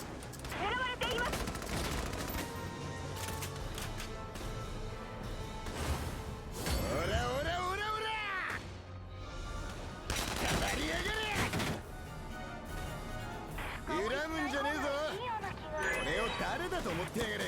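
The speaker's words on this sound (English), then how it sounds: "go into enemy fire on purpose" Enemy gunfire in the video game Valkyria Chronicles 4 crackles in steady, dense bursts almost throughout, mixed with in-game voices and music.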